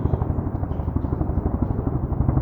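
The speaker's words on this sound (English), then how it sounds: "This is the loudest helicopter anyone's ever heard." Very loud helicopter passing overhead, its rotor thudding in a fast, steady chop with a heavy low rumble, close and continuous.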